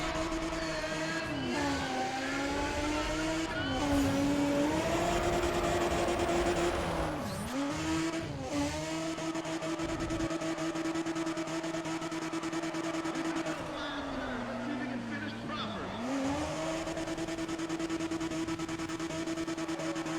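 A Mazda RX-8 drifts in Need for Speed, its engine droning loud and steady with rising and falling pitch through the corners, with tire squeal and several brief throttle dips.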